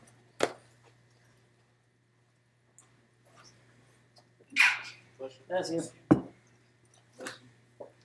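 A sharp, sudden sneeze bursts out during a quiet online group meeting, with brief speech and soft rustling around it at moderate distance.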